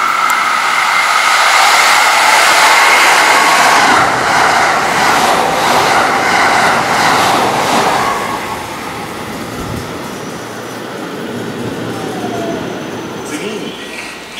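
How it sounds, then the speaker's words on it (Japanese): A freight train passing through Kiyosu station in Japan makes a loud, close, continuous roar with rhythmic rail-joint clatter, which eases off as the train moves past. "番線を列車が通過します。"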